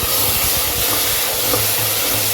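Ground coconut, milk and poppy seed paste hitting a hot tempering in a pan, a loud steady sizzle and hiss filling the whole moment without a break.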